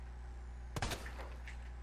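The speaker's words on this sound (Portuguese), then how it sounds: "De onde tá vindo esses tiros," Gunfire in the video game Resident Evil 2 Remake: one sharp shot at mid-clip with a brief rumbling tail, faint and heard alone over low background hum.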